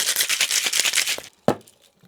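A cocktail shaker with ice shaking a smoky maple tequila and mezcal drink: a rapid rhythmic rattle and slosh up close for about a second, ending with one sharp knock.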